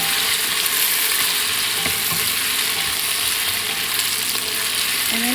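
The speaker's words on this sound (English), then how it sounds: "we're going to add in our curry leaves. Okay. And then we're going to give it a nice mix again." Onions and curry leaves sizzle steadily in a pot of one-pot mutton curry, a loud, continuous hiss with occasional scrapes and clinks of a spoon stirring, and no talking.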